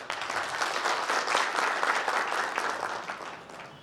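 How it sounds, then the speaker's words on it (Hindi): An audience at a school inauguration ceremony claps together in a dense, even wash of applause that swells briefly and then fades gently over a few seconds. "एक बार जोरदार तालियां आप अपने लिए बजाइए"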